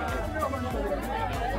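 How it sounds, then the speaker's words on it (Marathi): Crowd of tourists at the Narali Purnima festival in Malvan, a close, continuous babble of many overlapping voices with footsteps and general bustle. "सगळीकडे मस्त गर्दी आहे, सगळे इकडे पर्यटक पण आहेत।"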